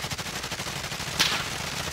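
Rapid automatic gunfire in a video game, a steady rattling stream of shots at moderate loudness with a sharper burst near the middle, heard without talk.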